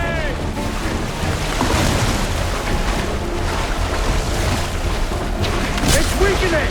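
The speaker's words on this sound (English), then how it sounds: "The blast has torn the rope!" A heavy harpoon blast in the open-sea whaling activity of Assassin's Creed 4 Black Flag, a deep booming thud over a steady roar of wind, waves and creaking ship, with a voice speaking.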